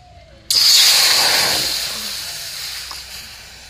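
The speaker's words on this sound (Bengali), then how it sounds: "এখন কড়াইটা আবার বসিয়ে দিলাম, দিয়ে দিচ্ছি জল।" Water hits a hot wok with a sudden loud hiss and burst of steam, then fades slowly into a softer, lingering sizzle.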